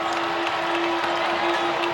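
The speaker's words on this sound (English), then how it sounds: "TCU feeling the pressure from the crowd here in United Supermarkets Arena" Crowd noise fills a packed United Supermarkets Arena during a Big 12 women's basketball game between TCU and Texas Tech, a steady wash of cheering and clapping from over 6,000 fans, with a sustained tone running beneath.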